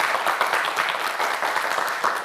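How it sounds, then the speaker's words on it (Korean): Studio audience applause on a televised science quiz show, a steady wash of many hands clapping at moderate loudness, continuous and unbroken throughout. "파이팅 외치면 큰 박수 보내주세요"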